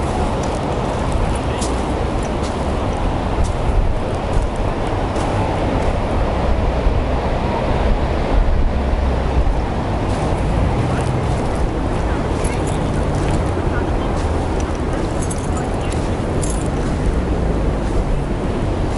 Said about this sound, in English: I don't know how much this external mic will be blocking the wind noise